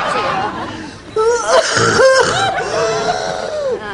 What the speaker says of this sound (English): do you hear that cough